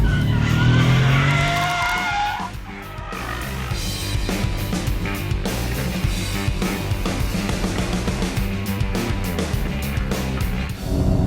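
A high-performance sports car kicks its tail out on a race track, tires squealing and skidding over a loud, continuous engine roar for several seconds.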